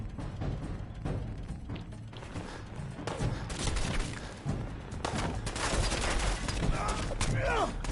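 Gunfire from the Fallout video game, with pipe weapons: repeated shots and rattling bursts over a busy game soundscape, moderately loud and continuous.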